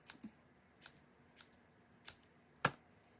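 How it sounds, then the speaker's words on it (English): Scissors snip through yarn loops to make tassels, five or six sharp separate cuts at irregular spacing, close and crisp against a quiet room, the last cut loudest. "Cut all the loops in half."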